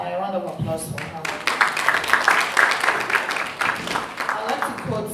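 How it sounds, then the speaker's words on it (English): Audience applause at an International Women's Day event, a brief voice at the start and then sustained, fairly loud clapping from the crowd that tapers slightly near the end. "A round of applause for her."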